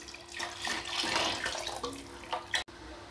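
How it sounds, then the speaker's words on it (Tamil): Meat cooking water pours into a pot for rava beef biryani in a continuous splashing stream that ends abruptly after about three seconds. "கறி வேக வச்ச தண்ணி இருக்குது, அதே நம்ம ஊற்றிக்கலாம்."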